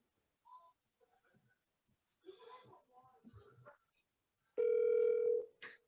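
After a few quiet, scattered bursts of a voice, a telephone call to a mobile number produces one long, steady ringback tone, clear and prominent, before the voice returns briefly.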